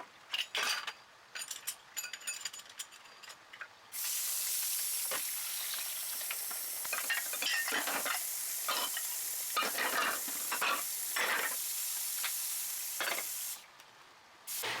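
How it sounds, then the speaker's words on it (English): Dishes being washed in a kitchen sink, with clattering and stirring clinks followed by a long steady hiss of running water, then more scattered clinks at the end; no talk. "I think the first thing I'm going to do is put all the dishes in the sink to be washed."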